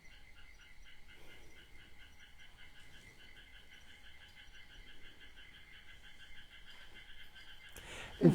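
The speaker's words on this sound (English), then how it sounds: "Frog, Frog?" A frog croaks in a steady rapid pulsing series, faint and distant under quiet background noise, ending with a brief louder knock.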